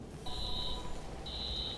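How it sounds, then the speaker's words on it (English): An electronic alarm in the video game Watch Dogs, two long steady high beeps separated by a short gap, sounding moderately loud over a low game-ambience bed. "Alarm's been tripped."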